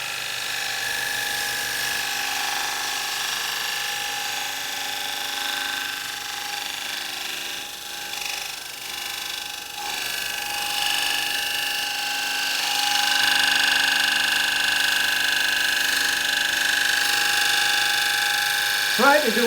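A woodturning cut on a lathe, the spinning workpiece giving a steady broadband hiss and whir that runs continuously and swells slightly toward the end.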